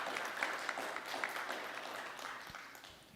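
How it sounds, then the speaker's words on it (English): A modest audience at an open-source community talk applauds the presenter, with moderately quiet, steady clapping that gradually tapers off toward the end. "Round of applause, please"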